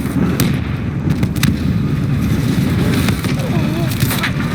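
Booming blasts and crackling gunfire fill a Call of Duty Black Ops 3 firefight, with a frag grenade explosion among sharp bursts over a rumbling battle bed, and voices shouting beneath.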